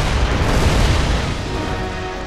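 Deep, loud mortar blast in Gears of War: Judgment, a heavy rumbling boom that fills the whole stretch and slowly fades, with no talk over it.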